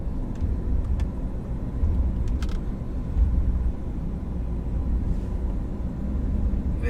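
A 2022 RAM 2500 Laramie pickup with a 392 HEMI rolls forward, its steady low engine and road rumble filling the cabin at an even level throughout, with no talking.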